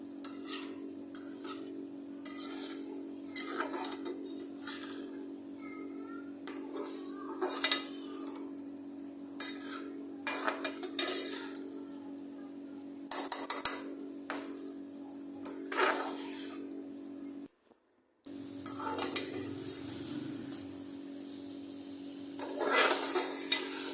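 Khatta methi aloo potatoes being stir-fried in a pan, a spatula scraping and knocking against the metal in irregular bursts over a low constant sizzle, with a brief silent gap partway through.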